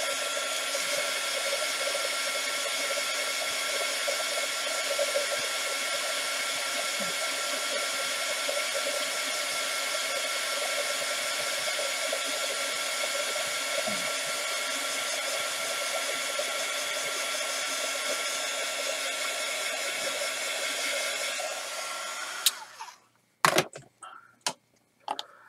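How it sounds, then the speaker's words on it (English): A heat gun blows steadily and loudly for about twenty seconds while drying a Christmas card, then cuts off, followed by a few sharp handling knocks near the end. "I'm gonna use the heat gun and dry this real quickly."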